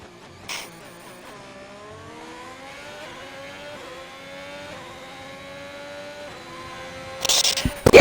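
Race car accelerating out of the final corner of the Saudi Arabia track, engine note climbing through rising gears at moderate distance, with a louder burst of noise at the end.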